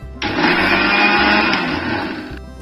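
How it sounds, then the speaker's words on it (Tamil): Mixer grinder whirring at full speed as it powders sugar and cardamom for moong dal laddu, one loud continuous run of about two seconds that starts and stops abruptly. "அந்த கேப்பில் நம்ம சர்க்கரையும் ஏலக்காவையும் நல்லா பவுடராக அரைச்சி எடுத்துக்கலாம்."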